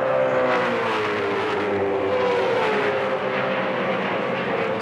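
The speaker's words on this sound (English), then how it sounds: "You hear the gentle progression of the throttle there in third gear coming off turn nine." A V8 Supercar is racing at Phillip Island, coming off turn nine in third gear. The engine note is loud and close and rises steadily as the throttle is fed in, giving a sustained rising drone.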